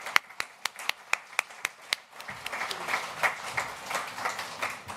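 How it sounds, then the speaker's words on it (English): A conference audience applauds, steady rhythmic hand claps that start sparse and distinct, then build into denser, fuller applause from many people in a large room. "Can we give another round of applause, please?"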